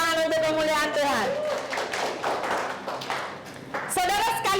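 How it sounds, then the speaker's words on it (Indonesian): A church congregation bursts into brief hand clapping during a service, a busy patter of many hands in the middle of the stretch, framed by a preacher's speech before and after. "tepuk tangan untuk kemuliaan Tuhan"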